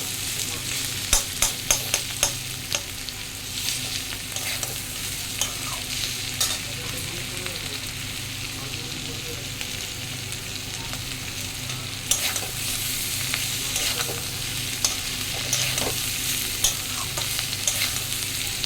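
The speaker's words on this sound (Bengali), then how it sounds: "এখন চিচিঙ্গাটাকে ভাজবো পেঁয়াজ লঙ্কা দিয়ে" Snake gourd frying with onion and chili sizzles steadily in a pan, punctuated by repeated clicks and scrapes of stirring throughout, close and fairly loud with no talking.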